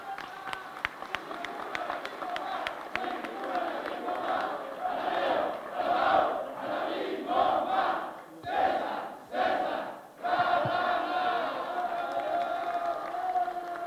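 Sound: crowd applauding and cheering at political rally

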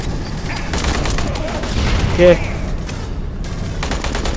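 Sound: gunfire in the video game Aliens: Colonial Marines

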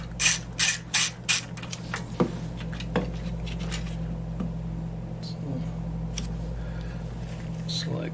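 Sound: removing bolts from a pressure washer with a ratchet

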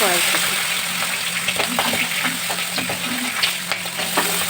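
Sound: green peas added to hot oil sizzling in a wok

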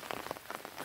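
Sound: rain falling in a vegetable garden

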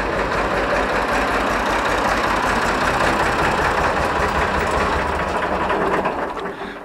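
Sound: tractor engine idling

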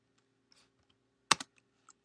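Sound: typing on a computer keyboard

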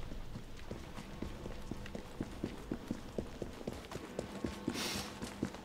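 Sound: horse hooves galloping in video game

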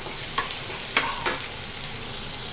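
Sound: frying finely chopped onions in a pan

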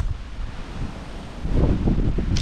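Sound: wind arriving during a storm at sea

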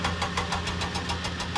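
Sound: crane lifting and loading cargo in a Thomas and Friends video game

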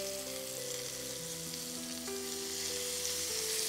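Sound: paneer shashlik sizzling in a pan on high flame

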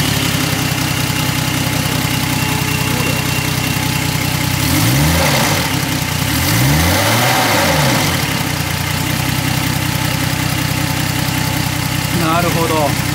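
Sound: 1980 Nissan Skyline KGC210 turbo engine running

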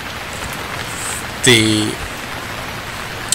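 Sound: rain falling in the video game Stranded Deep

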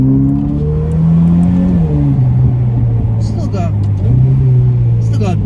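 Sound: Ferrari engine revving after dropping down gears

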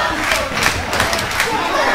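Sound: wrestling crowd cheering and booing

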